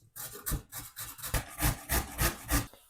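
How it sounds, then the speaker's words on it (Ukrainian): Steady rasping strokes of a carrot scraped across a coarse grater, about eight rhythmic passes, close up and unaccompanied. "А моркву натираю на велику терку."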